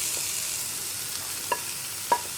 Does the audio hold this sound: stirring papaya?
yes